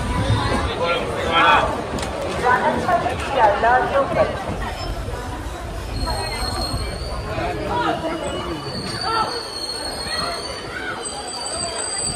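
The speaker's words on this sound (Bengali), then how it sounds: "আমাদের ট্রেন নৈহাটি থেকে ছেড়ে দিল" Maa Tara Express pulling out of Naihati Junction: a steady rail rumble and wheel noise beneath continuous platform crowd chatter, with faint high squeals later on.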